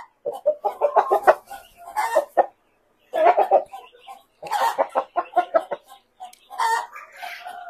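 Caipirão Gigante chickens cluck and squawk in bursts from close by in a pen, with short pauses between the loud runs of calls.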